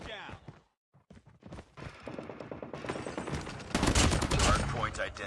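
A deployed sentry gun in Call of Duty Mobile rattles off rapid automatic fire, starting sparse then building into a loud dense burst in the last seconds, layered with game announcer speech.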